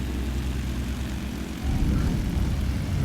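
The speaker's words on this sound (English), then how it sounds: "There's our touchdown." A Britten-Norman Islander propeller aircraft touches down on a runway: steady close engine and propeller drone fills the cabin, then a thump and rising low rumble as the wheels meet the ground.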